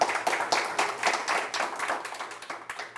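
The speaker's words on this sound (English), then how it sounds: "Can we give him a round of applause as well?" An audience applauding a guest at an executive summit, a lively burst of hand clapping from a modest crowd that thins and fades over a few seconds.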